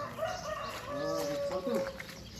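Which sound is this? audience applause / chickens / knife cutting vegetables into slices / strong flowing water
chickens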